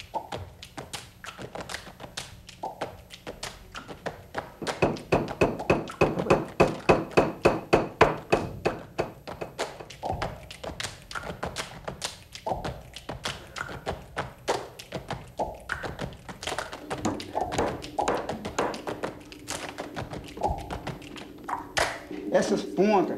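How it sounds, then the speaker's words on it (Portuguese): Nails are hammered into leather on a wooden bench, with rapid, rhythmic close taps in a fast run that then thin into scattered knocks, while a voice talks over much of the hammering. "Essas pontas aqui do couro é virada para dentro e depois tudo pregado."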